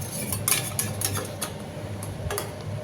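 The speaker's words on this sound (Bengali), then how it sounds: "মিশিয়ে নিয়ে এবার আমি এটা ঢেকে দেবো" Lid set over a pot of spiced crab: a run of light metallic clinks and taps against cookware, several quick knocks spread across a few seconds, close and fairly quiet, with no talk.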